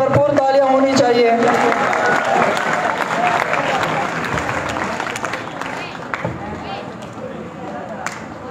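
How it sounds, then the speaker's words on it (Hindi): Applause from a school audience for a prize-winning student at a Teacher Day event, a dense, steady clatter of many hands that fills the whole stretch and slowly thins toward the end, with voices mixed in at the start. "इसके लिए भरपूर तालियां होनी चाहिए"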